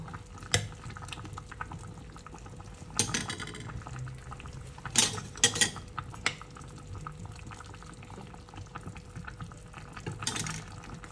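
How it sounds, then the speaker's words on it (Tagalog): Pork rib sinigang broth with gabi boiling in a pot, a steady low bubbling simmer broken by several louder clattering bursts, likely stirring or ingredients going in, with no talk. "Pakuluan lang natin guys bago ilagay yung kangkong"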